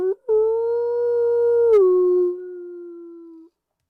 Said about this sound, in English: a coyote howled in the distance